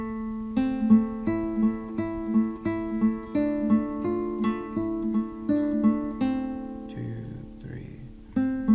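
Clean guitar picking out a steady melody over a sustained A drone, notes plucked in an even rhythm above the constant low tone, played solo and fairly quiet with no voices.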